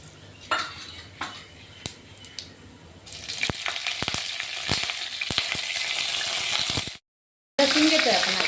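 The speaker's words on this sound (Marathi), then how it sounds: "जिरे मोहरी चांगली तडतडली की आपण कढीपत्ता टाकतोय." Mustard seeds, cumin and curry leaves crackling in hot oil for a poha tempering, a steady sizzle that swells loudly midway with sharp pops and spoon clinks, briefly cut off before resuming.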